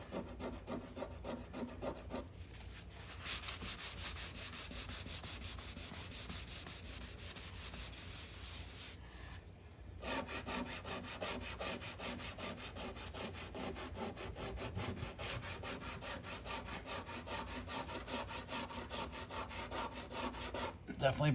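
A fingernail scrapes residue off the laminate of a Tempest arcade cabinet, a rapid, continuous rasping close up that pauses briefly and then resumes for a long stretch, with no voices.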